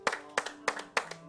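A small burst of audience clapping on a television comedy show, four distinct sharp claps in a loose rhythm over a faint steady tone.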